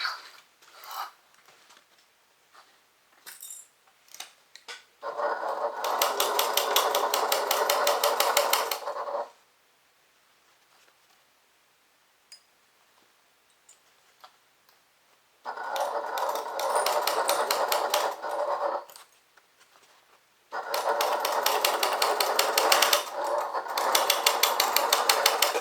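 A sewing machine stitches a bag in three bursts of steady, rapid mechanical whirring and needle chatter, separated by quiet gaps with faint handling clicks.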